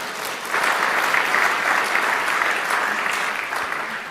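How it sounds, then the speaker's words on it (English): Audience applause in a state legislative chamber for the Nevada State of the State address, a dense, steady wash of many hands clapping that swells after half a second and holds loud throughout before easing slightly at the end. "You can clap for Tim."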